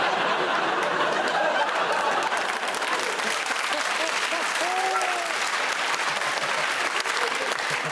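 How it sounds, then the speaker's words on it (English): A television comedy panel show studio audience breaks into sustained, dense applause that lasts nearly eight seconds, with scattered chuckles and a brief voice mixed into the clapping. "Round of applause, you're a genius."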